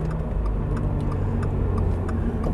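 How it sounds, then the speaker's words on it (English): Inside a 2022 Subaru BRZ, the turn signal ticks in a steady, evenly spaced rhythm over the constant hum of the road and engine. "The turn signals are just like the Lexus IS and GS."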